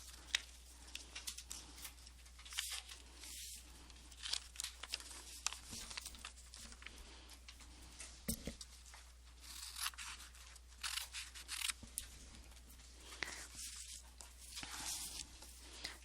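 Scissors cutting paper alien shapes in half, heard as soft, close snips and faint paper crinkling spread unevenly over a quiet background with no talking.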